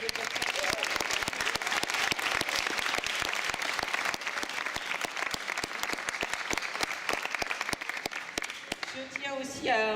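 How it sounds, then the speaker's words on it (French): An audience at a school speech applauds continuously, a dense, even patter of many hands clapping nearby that fades near the end as a voice begins talking. "on peut les applaudir"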